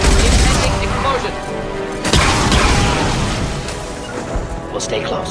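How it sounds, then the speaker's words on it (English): Explosions in the video game Mass Effect 2: heavy booms and crashing bursts near the start and around the midpoint, loud amid dense game noise, with characters speaking. "Impending explosion."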